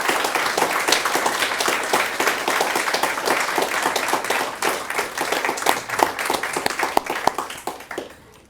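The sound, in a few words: audience applause at anniversary celebration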